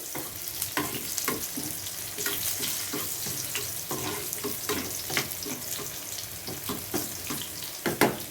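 Onions frying in a pan until golden, for a Kerala-style fish dish: a steady close hiss of oil with frequent clicking stirs and scrapes, a watery, rushing texture under it, and no talking.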